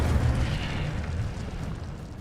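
An Accio and Incendio spell combo in the video game Hogwarts Legacy gives a deep, rumbling fiery burst that roars loudly at first and then gradually fades.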